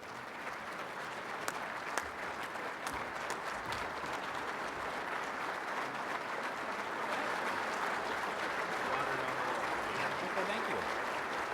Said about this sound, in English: help me in a rousing round of applause as we welcome Governor Rick Snyder for his remarks today